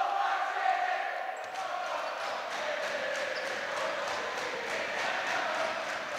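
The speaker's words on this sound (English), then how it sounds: "And the Castle Loch crowd just on cue as Oisin Tierney makes his first basket of the game" A school crowd at a Castleknock under-16 boys' basketball game cheers loudly and continuously after a made basket, a broad sustained roar of voices filling the gym.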